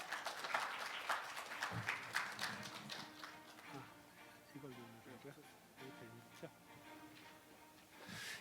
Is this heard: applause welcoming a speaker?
yes